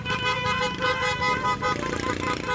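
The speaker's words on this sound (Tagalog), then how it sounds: "Panay busina." Motorcycles honk their horns repeatedly in busy road traffic near a bridge, short toots layered over a steady engine rumble and road noise.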